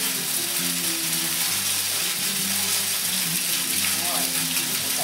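Potato pancakes fry in a pan with a steady, close crackling sizzle while people talk over it.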